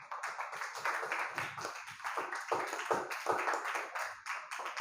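An audience claps steadily during a lecture on a Hindi poem, a dense continuous round of applause lasting several seconds at fairly close range.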